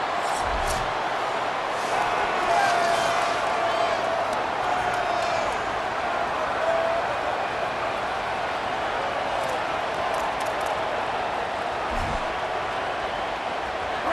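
Stadium crowd in a College Football video game cheering on a big third down: a dense, steady roar of many voices, loud and sustained throughout, with a commentator speaking over it.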